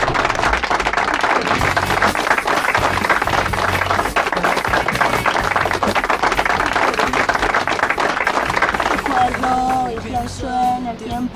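Audience applause at a summer music concert, a dense steady clapping that fills the room for several seconds and fades slightly toward the end as a tonal sound enters.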